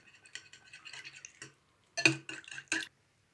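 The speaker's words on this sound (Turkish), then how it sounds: "Ve yoğurdu ilave ettikten sonra bunu çırpalım." Eggs, milk, oil and yogurt are whisked in a bowl, giving quick rhythmic clinking and sloshing strokes that are soft at first, then a few louder bursts after a brief pause.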